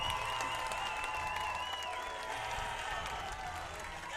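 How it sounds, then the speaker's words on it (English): A boys' soccer crowd at a Weslaco East Wildcats versus Weslaco High Panthers match roars steadily after a Wildcats win, with cheering and applause holding at an even, busy level throughout and a whistle-like tone sliding above it. "And listen to this crowd here as they are pumped up for a Wildcat victory here."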